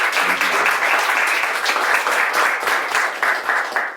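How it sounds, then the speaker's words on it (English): Audience applause after a talk with two Namibian entrepreneurs, a steady, dense wash of hand clapping from a room full of people lasting throughout, fairly loud with no speech over it. "Let's clap hands for them a bit."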